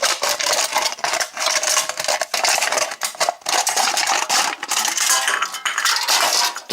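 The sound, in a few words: cutting an aluminum can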